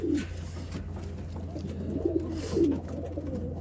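Racing pigeons coo in their loft in a few low, soft bursts over a steady hum, with the calls coming from nearby.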